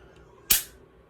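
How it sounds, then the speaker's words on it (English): A single sharp click from the trigger resetting on a Smith & Wesson 4006 TSW pistol, one brief close snap rising out of quiet room tone. "you think that's the reset right there because you can hear the audible click and you can feel it"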